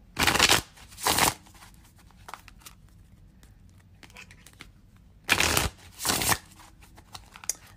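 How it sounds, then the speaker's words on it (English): A deck of cards is shuffled in two pairs of sharp, riffling bursts close to the microphone, with quiet pauses between them and no talking. "I'm going to pull 3 different cards for a collective message for you guys."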